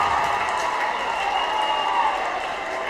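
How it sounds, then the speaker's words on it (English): Crowd noise in a gym at a high school boys basketball game, a steady roar of fans with a continuous hum and no distinct individual voices. "Listen to the crowd."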